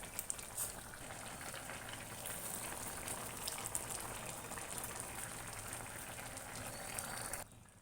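A pot of mushroom and meal maker curry bubbles steadily on the stove, a continuous close simmering hiss and fizz that holds even throughout and cuts off abruptly at the end.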